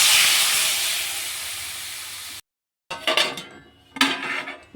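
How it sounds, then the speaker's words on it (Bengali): Water hits a hot pan of fried potatoes, cauliflower and bori, setting off a loud, steady sizzling hiss that cuts off abruptly. After a brief silence, utensils clink and scrape against the pan. "এবারে আমি এতে জল দিয়ে দেব।"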